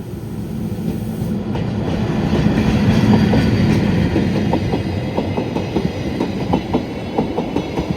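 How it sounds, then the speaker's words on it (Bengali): A train rolls along a street in Engelberg, Switzerland, close by and loud, its rumble swelling then settling into rhythmic clickety-clack wheel beats. "রাস্তার উপর দিয়ে ট্রেন যাচ্ছে"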